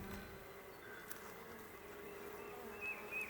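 A weak honey bee hive with bees bringing in pollen, giving a faint, steady insect hum that drones on at a distance with no break.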